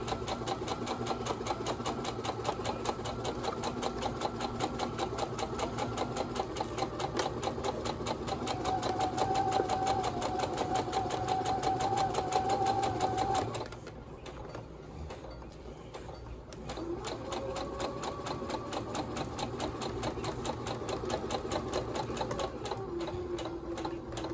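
A sewing machine runs a seam with a back stitch, a loud, rapid mechanical whir that pauses briefly midway, then resumes at a similar steady pace.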